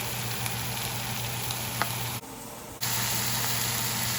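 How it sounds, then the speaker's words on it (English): Butter melts beside steak in a hot pan, making a steady close sizzle and hiss that drops out briefly midway, then returns at full strength. "I'm gonna add a little butter, okay?"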